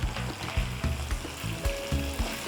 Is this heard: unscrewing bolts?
no